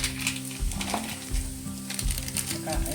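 Lentils sizzling and frying in a hot pan with salt, turmeric, spice masala and cumin, a steady close crackle with occasional stirring scrapes and a low hum underneath throughout.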